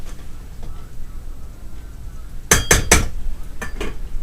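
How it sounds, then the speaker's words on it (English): A small spoon fluffs cooked rice inside a rice cooker pot, a quick cluster of three sharp metallic scrapes and clinks followed by two lighter taps, close and clear over a quiet kitchen background. "just take your little spoon, fluff it up a little bit"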